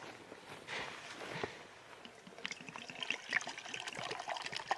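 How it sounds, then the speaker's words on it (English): Boiled creek water being poured into a cup at a fall campsite in Dolly Sods, West Virginia, a close, soft trickling pour that grows more bubbly and uneven toward the end. "Add a healthy dose of boiled creek water."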